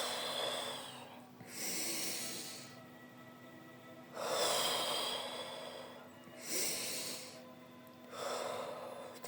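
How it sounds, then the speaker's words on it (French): Slow conscious breathing, a person drawing air audibly in through the nose and letting it out through the mouth, four close, soft breath cycles separated by pauses. "Vous inspirez par le nez, vous bloquez la respiration, puis vous expirez par la bouche."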